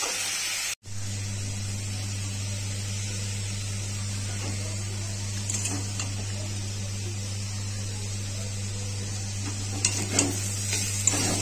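New potatoes fry with salt and turmeric in a pan, a steady close sizzle with occasional stirring scrapes and a constant low hum underneath, no talking.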